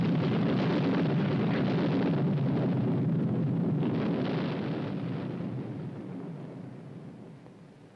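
A demolition blast set off by army engineers: a loud, sustained broadband roar and rumble that holds steady for several seconds before slowly fading away, with no voices.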